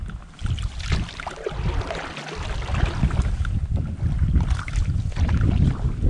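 A solo canoe paddling through marsh water on the South Branch of the Harris River, with gentle splashing and sloshing over a low, blustery rumble of wind against the microphone.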